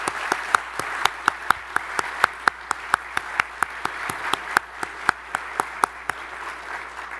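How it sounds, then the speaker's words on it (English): An audience at a St. Francis College charter award dinner applauds the honorees, a steady wash of clapping with sharp individual claps standing out, sustained throughout. "Join me in applauding the honorees tonight"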